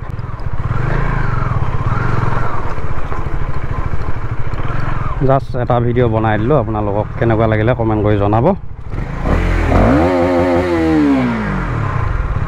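A KTM Duke 250 motorcycle engine runs close by with a steady low rumble that persists beneath someone talking, with no distinct sharp revving bursts.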